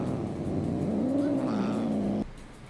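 Cat yowling from the Cat TV channel in the Crazy Cat Lady Simulator video game: one drawn-out, rising and falling meow over a steady background hum, ending abruptly.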